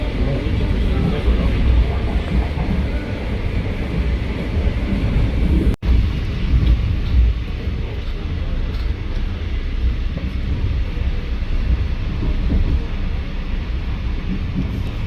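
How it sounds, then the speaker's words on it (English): A low, steady rumble of an approaching train at a station in Spain fills the clip, broad and continuous with a brief dropout partway through. "Don't know which way the train's coming from"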